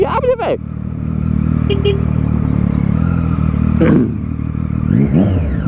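Motorcycle with an open exhaust revving at night, a loud rough engine drone with rises in pitch, close, with brief clattering sounds and talk over it.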